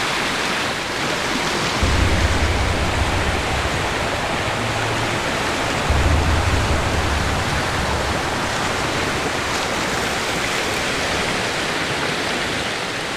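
Powerful river water rushes beneath a highway bridge in a steady, dense roar that fills the whole clip, with a faint low rumble swelling briefly twice.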